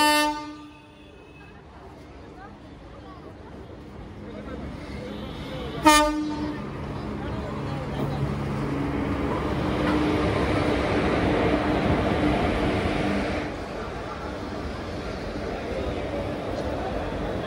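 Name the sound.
Teesta Torsha Express train arriving at Naihati station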